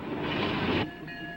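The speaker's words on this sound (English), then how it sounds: "The freight train just pulled into the Frontierland siding." Freight train pulling into the Frontierland siding at Disneyland, heard as a steady rumbling, hissing roll of rail cars that drops off abruptly, leaving a quieter hiss.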